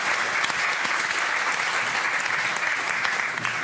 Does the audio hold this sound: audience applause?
yes